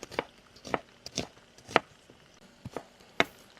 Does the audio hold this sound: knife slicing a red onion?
yes